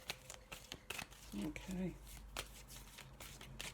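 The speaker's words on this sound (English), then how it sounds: "I know a lot of people don't like the shuffling" Oracle cards are shuffled by hand in a steady run of quick riffling snaps and crinkles, close up, while someone speaks briefly over the handling.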